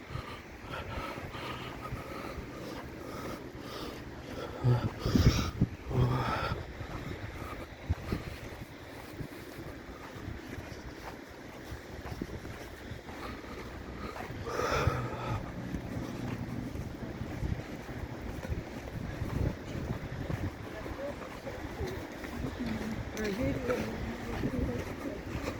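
Wind blowing steadily during a snowfall on Gagarin Street in Kolomna, a continuous broadband rush with stronger gusts and buffeting on the microphone, with distant street noise underneath.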